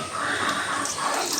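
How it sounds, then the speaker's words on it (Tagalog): Water running from an automatic nipple drinker on a pig pen, a steady hissing flow with a slight splashing edge, close by and continuous. "Check natin kung lalabas ba yung tubig."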